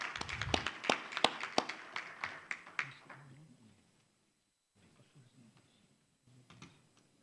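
An audience at a talk on Palestine applauds the organizing team with a short burst of clapping that fades after a few seconds into quiet room noise and soft speech.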